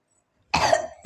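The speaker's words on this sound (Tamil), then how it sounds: "இது இருமல் தான்." A close, sharp cough bursts out once during a sneezing challenge, and a second cough starts abruptly right at the end, with silence before.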